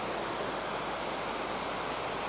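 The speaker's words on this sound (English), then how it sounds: "And there's a couple waterfalls here." Steady broadband rush of a waterfall just north of Valdez, Alaska, a continuous even roar with no pauses and no voices.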